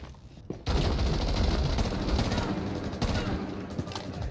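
Sustained automatic gunfire in the Rainbow Six Siege video game, a dense loud burst starting abruptly after a brief quiet moment and rattling continuously to the end.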